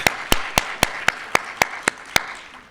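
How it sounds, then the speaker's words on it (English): Clapping for students at a conference closing plenary, heard as about nine sharp, evenly spaced claps, close and fairly loud over a quiet room. "let's give one more round of applause to all the students"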